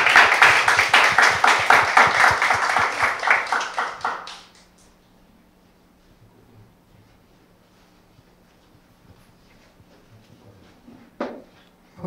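An audience at a Korea University startup awards event applauds a winning team, dense clapping that fades out after about four seconds into a quiet room with faint scattered noises.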